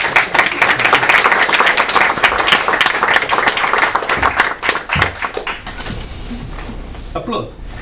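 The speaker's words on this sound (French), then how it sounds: "Applaudissements." An audience applauds at a beginners' theatre class performance in Paris, with dense, loud clapping that holds steady before gradually thinning out and fading near the end.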